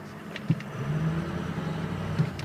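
A 2005 Ford F250 Lariat 4x4 diesel truck runs at a steady idle, its low, even engine drone broken by a couple of brief clunks as it is shifted between gears.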